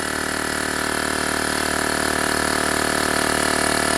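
A LASFIT portable tire inflator running steadily nearby, giving a loud, constant buzzing motor drone with no breaks and no talk.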